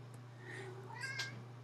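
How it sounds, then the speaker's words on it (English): A house cat meows twice indoors, a short call followed by a longer rising meow, close and clear over a steady low electrical hum. "There's my cat trying to participate in this exciting process."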